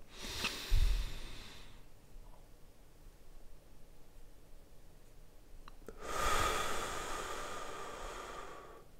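Two long, airy breaths in a quiet room during a guided breathing exercise, a brief nasal inhale at the start and a deeper, louder rush of breath later, close to the listener with silence between.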